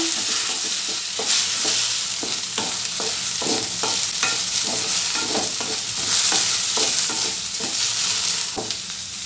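Okra fries in a pan for chutney, producing a loud continuous sizzle with brisk, regular spatula scrapes and clatters throughout, and no one speaking.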